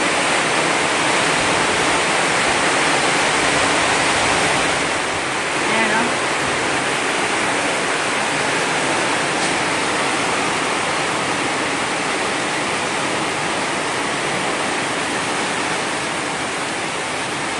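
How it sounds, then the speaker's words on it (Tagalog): Heavy rain pours steadily over flooded rice paddies, a loud, dense, unbroken hiss that holds throughout. A voice speaks briefly under it. "Salamat Diyos sa ulan."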